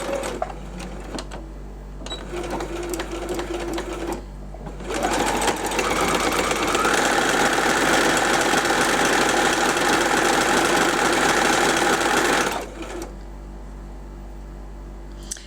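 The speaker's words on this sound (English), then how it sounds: "you are just going to stitch a straight stitch all the way down until you get to the end" A sewing machine stitches a long straight seam on quilt fabric for a nine patch zig zag row. The machine runs loud and steady for about eight seconds after brief lighter stitching and handling noise, with a low constant hum underneath throughout.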